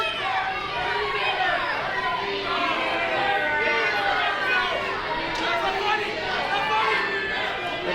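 A live wrestling crowd chants and jeers at wrestler Mark Wheeler during a match. The dense, loud wall of many voices holds steady throughout.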